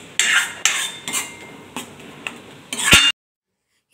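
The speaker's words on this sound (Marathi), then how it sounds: "आता ही प्युरी आपल्याला छान अशी परतून घ्यायची आहे मसाल्यामध्ये।" Tomato puree being stir-fried with spices in a pan for methi matar malai, with a handful of sharp spoon-on-pan clatters at irregular intervals over a faint background, ending in sudden silence.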